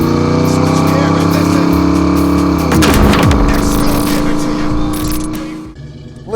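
A 1989 Ford Mustang GT with a 5.0-liter V8 and automatic transmission on a test drive, its engine droning steadily from inside the cabin, then a surge of revs midway before settling back.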